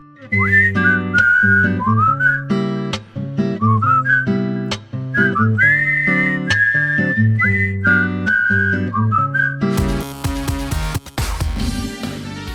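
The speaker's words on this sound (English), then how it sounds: "you can't tell me the whistling tune doesn't get stuck in your head" A melodic whistled tune from a horror video game's soundtrack, played over a steady backing with bright, wavering notes, ending in a noisy, crashing musical burst.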